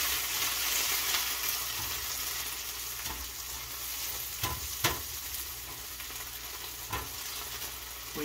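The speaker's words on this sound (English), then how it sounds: "Alright, let's get that stirred up." Refried beans stirred in a pan on the stove, with a steady low sizzle and a few soft scrapes and taps of the spoon against the pan spaced across the stretch.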